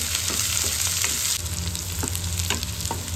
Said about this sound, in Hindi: प्याज डाल दो, इसको गोल्डन ब्राउन होने तक भाई ना पीले पीले होने तक पका दो।